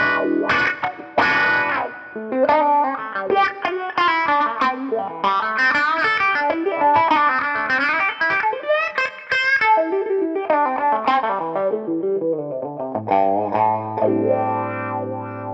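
An electric guitar played through a new effects pedal gives a driven, effected lead line of quick bent notes and runs, ending on a low sustained note, loud and up close with no talking.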